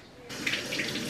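Water poured into a cup while making a Cinnamoroll cake pop, a steady close splash starting partway through and running to the end, with no talk.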